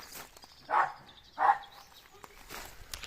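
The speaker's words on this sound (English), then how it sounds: "The dog's out for a run." A dog out for a run in early spring countryside barks twice, separated by about half a second, at moderate distance over quiet outdoor ambience.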